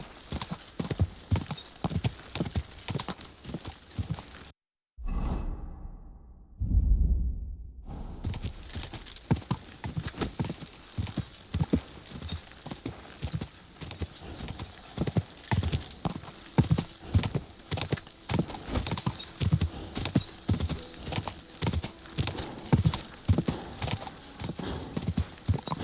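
Horse hooves clip-clop steadily and close in the medieval role-playing game Kingdom Come: Deliverance II, a dense rhythmic trot with an occasional whinny, broken by a brief drop into near silence before the hoofbeats resume.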